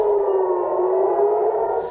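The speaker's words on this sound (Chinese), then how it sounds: "空袭警报声响起" An air raid siren wails over Tel Aviv, one loud steady tone that holds without a break and begins to fade at the very end, with no voices.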